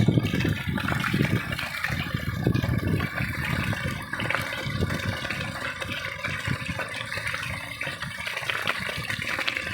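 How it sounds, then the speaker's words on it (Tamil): Water flushing out of a drip irrigation pipe serving drumstick trees, clearing out stones and soil, a continuous gushing rush close by that holds steady throughout. "இன்னும் கொஞ்சம் நேரத்தில் ப்யூர் ஆகிடும் ப்யூராக தண்ணி வர ஆரம்பிச்சிடும்"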